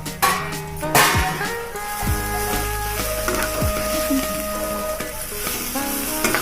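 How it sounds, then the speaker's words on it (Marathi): Crumbs fry in hot tempering oil with a busy sizzle, while a utensil stirs and scrapes the pan with clinks and knocks. "आता हा जो चुरा आहे तो आपल्याला या फोडणीमध्ये चांगला परतून घ्यायचा आहे"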